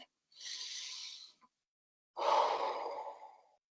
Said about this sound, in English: So why don't we take a deep breath